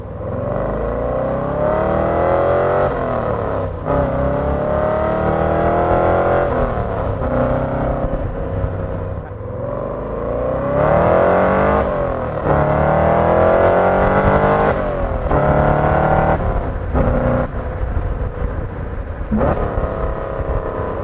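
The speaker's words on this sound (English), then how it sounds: "We have finished our test drive of the 1963 C2 generation Chevrolet Corvette" A 1963 Chevrolet Corvette Stingray C2 roars loudly from close by, its engine note climbing through the revs and dropping with each gear change, repeating across several accelerating pulls.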